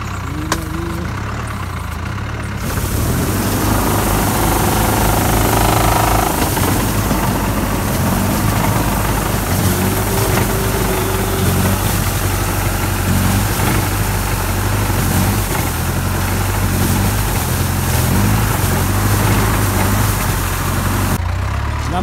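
Tractor engine running steadily during an olive harvest on sloping ground, a loud continuous mid-to-low rumble with some knocking texture that grows louder after the first couple of seconds and stays close throughout.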